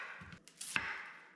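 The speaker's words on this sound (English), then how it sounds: "now we got an onion. Cut off the ends." An onion has its ends cut off with a knife on a board, a few quiet close chopping taps and a sharper slicing crunch in quick succession.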